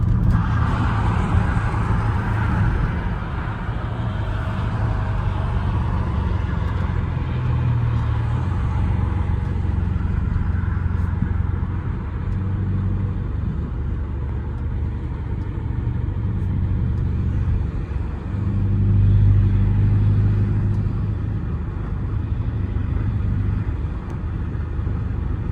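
A straight-piped Chrysler 300 driven on the road gives a steady, deep exhaust drone that swells louder during a pull near the end.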